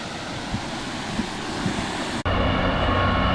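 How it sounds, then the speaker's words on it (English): Service train on the Settle to Carlisle line passing near the River Ribble, a broad rushing rumble with wind, the sound cutting sharply into a closer, harsher roar partway through. "There's a service train that I should be coming back on later on."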